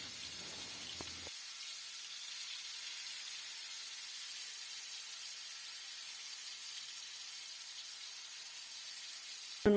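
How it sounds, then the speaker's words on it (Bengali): Marinated meat sizzling in a frying pan, a steady, fairly quiet hiss of hot oil continuing without a break. "এই তো এখন হচ্ছে সবগুলো ভেজে নিচ্ছি"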